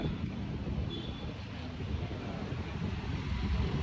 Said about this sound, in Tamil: காற்றும் நல்லா வருது.